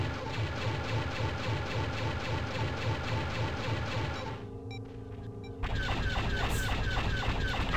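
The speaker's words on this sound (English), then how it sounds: "Oh, cannons!" Cannons fire in the TIE Fighter space combat game as a dense, rapid pulsing barrage that briefly thins to a quieter stretch, then resumes louder and steady.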